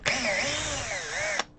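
Power drill spinning against a guitar, a steady high-pitched whine with slight wavering in pitch, held for over a second before stopping abruptly, close and loud.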